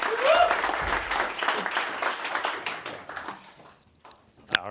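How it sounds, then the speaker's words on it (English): Applause and cheering from a meetup audience in Berlin, dense and loud at first, then thinning out and fading over a few seconds, with a sharp tap near the end. "I want you to give him the biggest welcome, the biggest round of applause for Tudor!"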